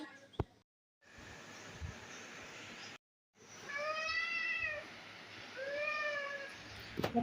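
A hungry cat meows several times close by, drawn-out rising and falling calls separated by short pauses, with a brief sharp knock at the start.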